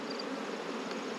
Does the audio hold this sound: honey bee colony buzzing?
yes